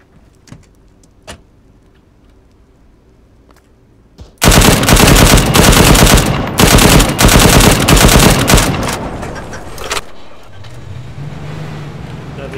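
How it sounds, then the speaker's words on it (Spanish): Loud, sustained automatic gunfire in ArmA 3 Wasteland on the Chernarus map, a long close burst with brief pauses that fades into lower rumble after a few faint earlier shots. "Nos ha disparado."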